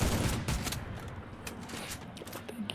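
Gunfire in the mobile battle game Free Fire, a loud rapid burst of shots at the start and then repeated sharp cracks over a dense, noisy backdrop.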